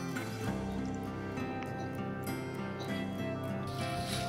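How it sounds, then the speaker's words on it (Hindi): Rain falls at night as a dense, continuous patter with scattered closer drips, fairly faint and steady throughout. "अरे पानी का आवाज़ आ रहा है, बारिश हो रहा है क्या?"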